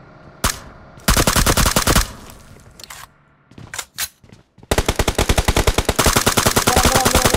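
Machine-gun fire in a video game arrives in loud, rapid bursts: a few short volleys early, scattered single shots, then a long sustained stream of automatic fire to the end.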